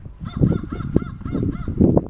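Several crows caw in a neighbourhood outdoors, a run of repeated harsh calls in short bursts, fairly close and clear with light street background.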